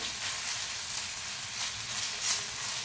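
Ginger garlic paste and cumin sizzle steadily on a hot tawa while an egg masala cooks, a continuous soft hiss that holds at the same level throughout with no talking.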